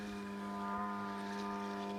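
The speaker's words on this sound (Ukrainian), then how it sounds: "Це в основному шахеди, гербери розвідувальні дрони." A propeller reconnaissance drone drones steadily overhead with a constant, even buzzing hum, moderately distant and unbroken throughout.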